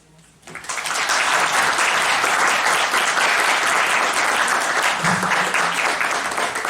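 Audience applause at a university faculty anniversary event, breaking out suddenly after a quiet moment and continuing as a dense, loud, sustained wash of clapping that holds steady and only slightly fades by the end.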